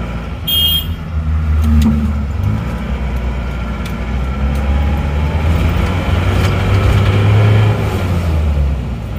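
A car pulls away in first gear during a manual transmission test, its engine giving a steady, fairly loud low drone that swells slightly as it moves off, with no talking.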